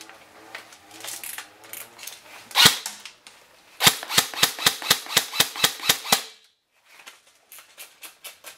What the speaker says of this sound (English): You ready for full auto?